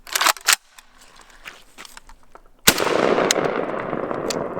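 JTS M12AK-T1 AK-style shotgun firing, two sharp close blasts followed by a loud report with a long ringing, echoing tail outdoors.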